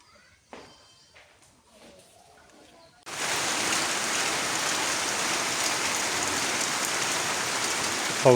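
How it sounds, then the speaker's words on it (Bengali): After a few seconds of quiet with small knocks, rain abruptly starts pouring in a dense, steady hiss at a village home with a tin roof, loud and even to the end. "অবশেষে আল্লাহর রহমতের বৃষ্টি আবার শুরু হয়ে গেল।"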